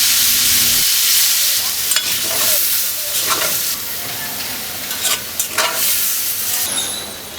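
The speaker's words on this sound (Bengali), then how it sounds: "এখন আমি এই ভাজা মাংসগুলোর উপরে 1 কাপ পরিমাণ পেঁয়াজ কেটে বেটে নিয়ে সেটাকে ঢেলে দিচ্ছি" Onion paste poured over browned frying chicken in a pan, giving a loud, steady sizzle with scraping stir strokes and a few sharper crackles, close and continuous without talk.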